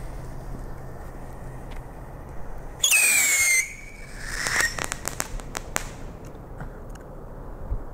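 Rockets from a rocket bag firework assortment launching outdoors, a rising whistle followed by a cluster of sharp cracks and bangs at moderate distance, with a few scattered pops after.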